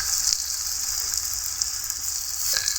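Chopped tomato hits a hot pan of fried onion and green chilli while egg bhuna is being made, giving a steady, close, hissing sizzle with faint crackles and no talking.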